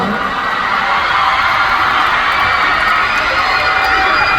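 A large audience at a K-pop awards show in 2023 applauds and cheers, a dense, steady roar of clapping and shouting filling the whole stretch with no single voice standing out.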